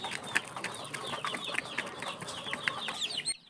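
Hungry chicks and gamefowl at feeding time, a steady chorus of high peeping and clucking close by, busy and overlapping for the whole stretch.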